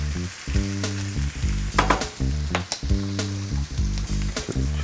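Spinach wilting in a hot frying pan, sizzling steadily with repeated stirring and scraping strokes, loud and close, with no talk.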